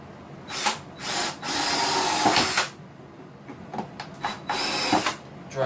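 A power drill drives a screw into a wooden desk in a series of close, loud whirring bursts of uneven length. Short pauses and brief trigger taps separate the bursts.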